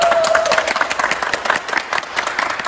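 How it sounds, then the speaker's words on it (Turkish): A team of car refitters applauds itself after turning an old Mercedes into a like-new vehicle: a dense, steady patter of many hands clapping together, fairly loud and close, with no clear voices. "kendimizi alkışlıyoruz"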